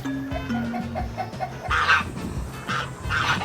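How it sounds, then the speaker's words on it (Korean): Chickens cluck on a farm, a close, repeated rhythm of short clucks with louder squawking bursts mixed in near the end. "닭 소리 들리지?"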